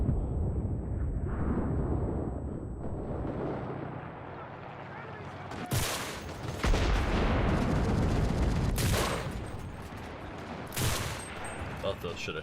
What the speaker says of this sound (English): They dropped a fucking airstrike on us.